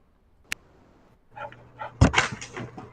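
A pet dog lets out a short burst of barks and yips close by in a quiet room, with a sharp isolated click just before and busy overlapping yelps toward the end.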